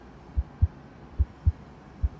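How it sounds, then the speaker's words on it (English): A heartbeat sound effect in an explainer on the heart and the first heartbeat: five deep, soft low thumps in an uneven lub-dub rhythm, loud and close over a faint hum, with no voices. "a spontaneous electrical spark that gives rise to the first heartbeat"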